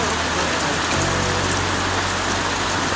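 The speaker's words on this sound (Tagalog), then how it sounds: "Yun nga po ay maulan nga" Steady rain falls continuously, a dense even hiss of drops on surfaces with a low rumble beneath, close and fairly loud, with no voices.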